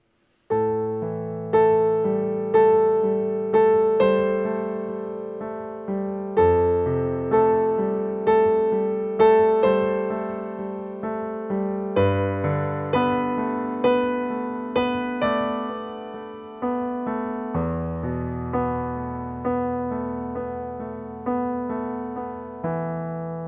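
A piano plays chords at a quicker tempo. The chords are struck steadily and evenly, each ringing out and decaying before the next, and the playing continues alone for over twenty seconds.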